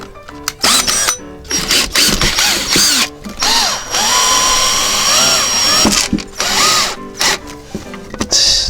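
Power drill driving screws into a padded chair prop. Loud, close, repeated whirring bursts rise and fall in pitch, with stops and restarts and one longer sustained run in the middle.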